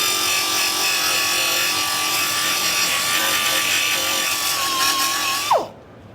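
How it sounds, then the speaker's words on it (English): A belt sander grinds spot welds smooth on a steel car panel, a loud, steady whining drone held close for several seconds before the motor winds down and cuts off. "we're going to take our belt sander back again"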